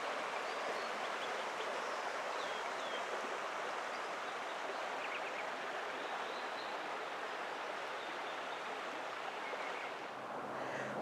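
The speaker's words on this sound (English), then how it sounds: "We were walking along the Chetco River here" The Chetco River in Oregon rushes steadily past a redwood-lined bank, a continuous broad wash of flowing water with no pauses.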